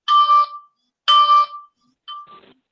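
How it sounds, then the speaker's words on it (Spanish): A mobile phone ringtone chimes in a quiet classroom, three bright electronic tone bursts with pauses between them, the last one softer and shorter, no talking over it. "¿A alguien le está sonando el teléfono por ahí?"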